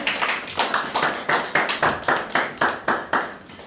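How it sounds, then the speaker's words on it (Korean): Applause at an education innovation case-presentation contest: a small group claps in a fairly steady rhythm, with about a dozen distinct, sharp hand claps that stand out clearly over a quiet room with no talking. "조금 격려의 박수를 좀"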